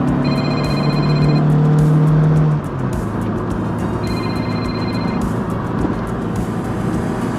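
A Mazda RX-8 fitted with an AvtoVAZ 16-valve engine is driven at full throttle, its loud engine tone holding steady, then dropping in pitch and continuing as a rough, strained roar.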